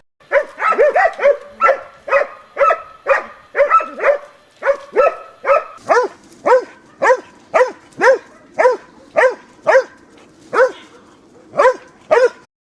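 Serbian hound dogs bay steadily during a winter hare hunt in snow, a long run of loud, evenly spaced barks, close and clear, with no voices over them.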